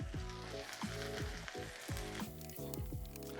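A stir-fry finished with sriracha hot chili sauce cooks on the hob, giving off a loud, close, continuous sizzle with crackling spits and occasional soft stirring shuffles and no voices.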